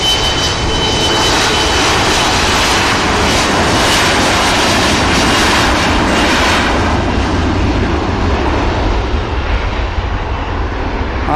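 An airliner departing Manchester Airport, its jet engines roaring loud and steady, a broad continuous rumble filling the whole stretch.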